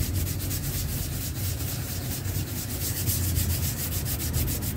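A rigid sanding block works by hand over body filler on a car panel, giving a steady rough rubbing with rapid back-and-forth strokes that stays close and even throughout.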